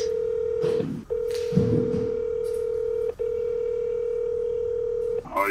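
Telephone handset dial tone with DTMF keypad beeps as a call is placed, a steady tone broken by short dialing pauses, with faint background voices.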